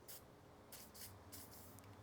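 Short hissing bursts of aerosol spray, three or four quick spurts spaced apart, fairly faint against a low background hum.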